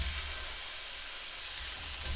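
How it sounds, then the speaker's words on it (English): Chorizo, a pound of it, sizzles in a skillet preheated over medium heat, a steady broadband hiss that runs alone and evenly for the whole stretch without any talking. "If you don't hear it sizzle, your pan is not hot enough."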